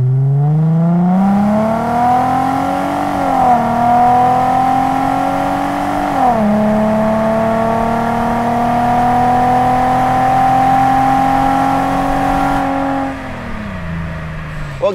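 SLP axle-back exhaust on a 2005-2009 Ford Mustang V6, revved loud and close, rising through several throttle blips before settling into a steady high drone and dropping back at the end.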